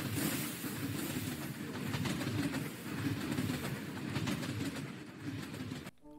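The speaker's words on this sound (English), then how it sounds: "he has created this working monorail system" A monorail train from the Create mod in Minecraft runs along its track with a steady rolling rumble and faint rhythmic clicking, continuous and fairly close, cutting off abruptly at the end.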